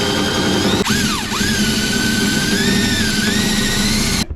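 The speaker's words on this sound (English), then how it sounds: "start the drill before you really push it all the way in there" A loud, close power drill whines steadily while boring holes into a vehicle's metal tailgate, its pitch dipping as it bites in, then running on until it stops.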